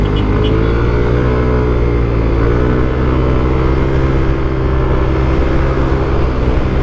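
Yamaha Aerox scooter with an upgraded CVT and stock engine accelerating, a steady loud drone with rising harmonics held close throughout, with no talk.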